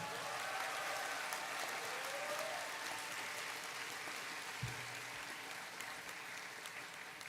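A large graduation ceremony crowd claps steadily and dense throughout, a continuous wash of applause heard from within the hall, with no voices standing out.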